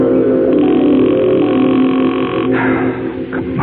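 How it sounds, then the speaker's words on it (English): A telephone line's dial tone hums steadily and loudly, then shifts near the end into a changed tone pattern with brief bursts, heard alone without voices. "Answer the phone."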